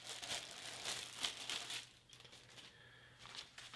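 A plastic bag holding napkins from a Czech Republic IMRE Menu 5 ration pack crinkles softly and close, rustling in irregular bursts with a brief quieter pause.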